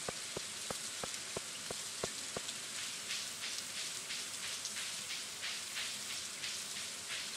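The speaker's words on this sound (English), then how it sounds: "Look at all the rain." Steady rain falls in the Stardew Valley video game as a soft, continuous patter, with a run of regular clicking ticks early on and no voices.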